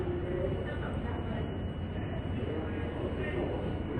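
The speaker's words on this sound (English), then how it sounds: "A Manhattan-bound E train with the Siemens propulsion. They definitely sound different coming into a station too." A Manhattan-bound E train with Siemens propulsion rolls into a subway station, a steady, moderately loud rumble and hum filling the platform.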